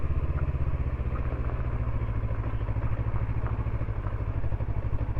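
A 2023 Honda CB500X motorcycle ridden off-road, its engine thrumming in a steady low pulsing beat with occasional clattering and thumps over rough ground, close and continuous without speech.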